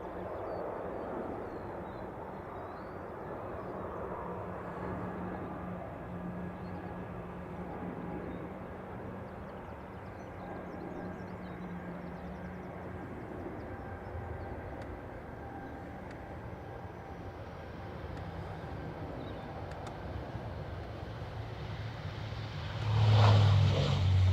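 An ATR turboprop from the Isle of Man at Dublin Airport makes a steady, fairly distant drone that holds for the whole stretch and swells briefly louder near the end.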